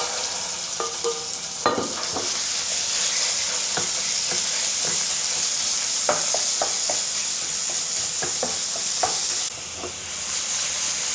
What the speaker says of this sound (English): Heat some oil in a pan to stir fry the minced pork.